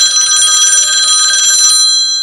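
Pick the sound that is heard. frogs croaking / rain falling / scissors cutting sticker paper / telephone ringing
telephone ringing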